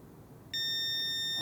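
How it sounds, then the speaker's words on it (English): A Kwikset Halo smart lock beeps during a factory reset, a sudden steady high electronic tone that starts partway through and holds, clear against a quiet room. "we'll just sit here and wait until we hear that beep."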